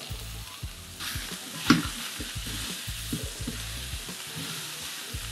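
Chunks of pumpkin hit a pot of onion, garlic and celery soup base and sizzle steadily up close, with a sharp spike from the drop. Stirring clatter and frying crackle run throughout, and nobody speaks.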